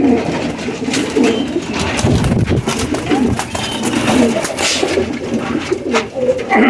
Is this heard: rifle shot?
no